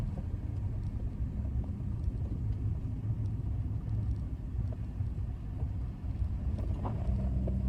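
Storm wind buffets a parked car in Okinawa with someone sitting inside, a steady loud low rumble and drone filling the cabin throughout, with small thumps as gusts rock the vehicle.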